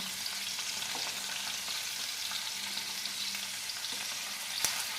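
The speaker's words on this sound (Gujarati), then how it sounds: "ધીરે રહીને આપણે આ રીતે આપણે શેકી લઈશું. બીજી સાઈડથી આપણે શેકી લઈશું." Mutton tikka boti pieces roasting in a pan, giving a steady, dense sizzle of frying meat throughout with a faint scrape or two and no talking.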